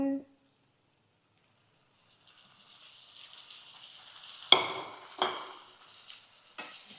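Tomatoes drop into a pan where bitter gourd pieces are frying, giving a steady soft sizzle followed by several sharp clattering hits and stirring scrapes against the pan.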